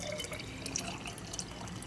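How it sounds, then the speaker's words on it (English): Iaso tea being poured into a jar, a steady close trickle of liquid with faint drips, continuous for under two seconds with no talk. "I'm gonna pour some of my Iaso tea in the jar."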